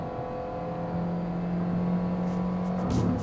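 A Toyota Veloz seven-seater's engine revs hard while accelerating, a steady, fairly loud drone with a sustained tone that climbs slightly near the end, with no one talking.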